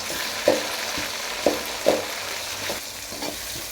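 Chopped tomato frying in a pan for a sundakkai kuzhambu, a soft steady sizzle broken by a few sharp spoon taps and scrapes against the pan.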